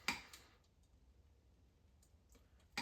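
Wire cutters snip through a wire during an arcade machine restoration, a sharp close click at the start, then small faint ticks and another crisp snap at the end.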